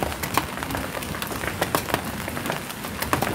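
Heavy rain at a large outdoor aviary surrounded by big trees, a dense hiss of falling water with sharp irregular drops and patters striking nearby surfaces.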